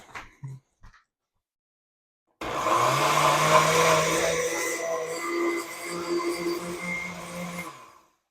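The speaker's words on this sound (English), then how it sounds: "Now let's blend it up and see what we get." A kitchen blender purées sweet potato with salty Asiago cheese, starting after a few small clicks and a pause, then running as a loud, steady motor whir that strains and shifts in pitch for several seconds before winding down.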